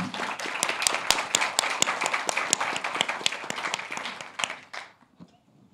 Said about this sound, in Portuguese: Uma salva de palmas para os autores.